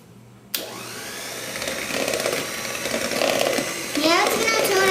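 A mixer beats peach pie filling with vanilla mixed in, its steady motor whir starting abruptly and running close and loud, the pitch rising and strengthening near the end.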